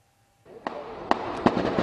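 Gunfire rings out during a police shootout in Jersey City: after a quiet start, four or five sharp, separate cracks sound at moderate distance over a constant background rumble.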